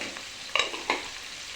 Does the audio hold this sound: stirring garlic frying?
yes